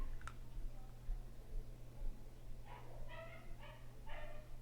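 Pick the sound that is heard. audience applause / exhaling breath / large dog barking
large dog barking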